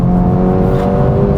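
2024 Acura Integra Type S under hard acceleration with the turbo spooling, a loud, close, continuous engine drone with a steady whine layered on top.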